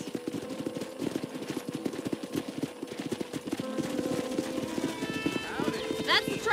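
Horse hooves clip-clop steadily in the Western video game Red Dead Redemption, an even walking rhythm under character voices, with a brief whinny near the end.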